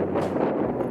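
Wind gusting along a street, a steady broad rush close to the microphone, filling the whole moment with no voices.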